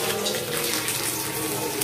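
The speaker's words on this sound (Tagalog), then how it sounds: "Lagyan mo na ng tubig." Tap water pours steadily into a cooking pot in a home kitchen, a full, continuous splashing rush heard close up with no talking.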